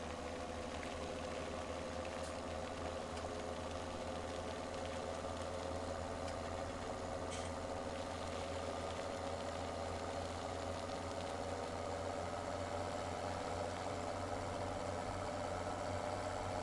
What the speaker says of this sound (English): Does look the business, does that tractor and trailer